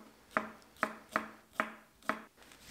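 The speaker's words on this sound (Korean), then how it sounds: "대파 송송 그리고 어슷 썰어줍니다." A kitchen knife slices green onion on a cutting board in six evenly spaced crisp chops, close and clear against a quiet background, with no talk.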